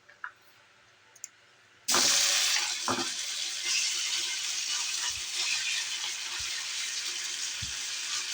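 Pork slices frying in hot cooking oil in a pan, a loud steady sizzle that bursts in suddenly after a quiet start, with a few soft knocks along the way.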